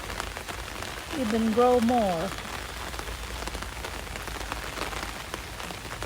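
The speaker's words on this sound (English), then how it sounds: "So it's raining" Steady rain falls on a home garden where passion fruit and bitter melon grow, a continuous close hiss of drops on surfaces that runs throughout, with a brief stretch of talking over it early on.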